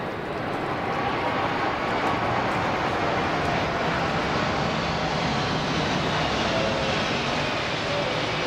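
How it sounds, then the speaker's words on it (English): A C-17 military transport aircraft flies past with a loud, steady jet roar that holds evenly throughout, broad and rumbling, with no speech over it. "And the fifth element, we have a C-17"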